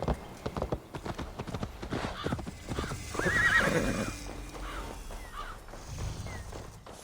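A horse in the Assassin's Creed Valhalla video game gives a loud, close neigh midway while its hooves clip-clop in a steady rhythm before and after, with a faint voice briefly in the background.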